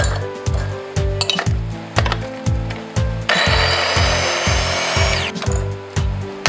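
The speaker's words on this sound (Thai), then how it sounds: "เราเอาพริกกับกระเทียมไปเข้าเครื่องปั่นกันปั่นให้เรียบร้อยเลยปั่นให้ละเอียด" Blender grinding chili and garlic into a paste, sounding as a series of rhythmic loud pulses and a sustained whirring burst in the middle, rattling and clinking as it chops.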